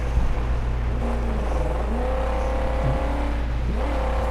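The Scrapulence, a vehicle loaded down with scrap in Mad Max, drives along with a steady droning engine and shifting revs, close and continuous with no talk.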